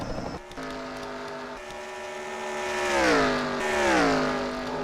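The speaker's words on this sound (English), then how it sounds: "Definitely sounds like there's a cylinder down or something." Race car engine with a cylinder down, a loud uneven drone that passes the cameras at a stock car series race at Chicagoland, its pitch dipping and swelling as it goes by.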